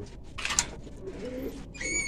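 Female pigeons in a loft give soft, low cooing calls over a quiet background, with a brief rustle or flutter partway through.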